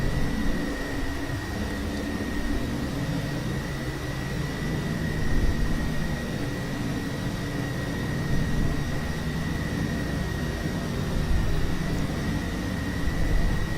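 Steady, unbroken engine roar and airflow hiss inside the cockpit of a Boeing 727 in FSX, a constant broadband drone with a faint high whine and no talking.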